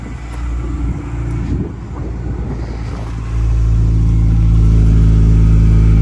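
Honda Civic engine running with no muffler, a deep continuous rumble close by that steps up louder and heavier partway through as the revs rise, no voices present.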